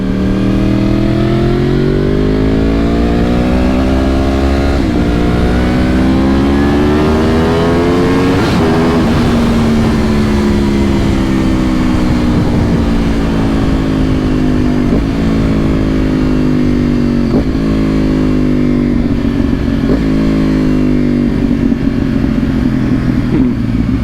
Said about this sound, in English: Them downshifts though.